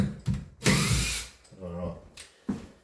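A cordless power drill backs out an old screw from a door handle, with short bursts of whirring and a longer high-speed run, interrupted by brief pauses and clicks.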